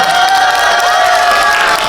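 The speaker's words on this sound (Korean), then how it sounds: "자 그럼 다시 한번 또 뜨거운 박수 하어주시면" A cinema audience at a stage greeting for a film screening at Lotte Cinema Konkuk University 1관 applauds and cheers loudly, with a continuous wash of clapping, shouts and high-pitched screams and no break.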